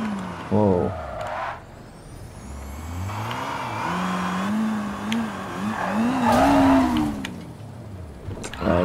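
A Jaguar C-X75 supercar in the racing game Need for Speed Rivals roars loudly, its engine pitch climbing and dipping through gear changes, with tire noise and a voice speaking briefly over it.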